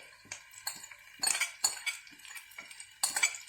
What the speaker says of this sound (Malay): akan masukkan ikan you ya, yang kita dah hancurkan tadi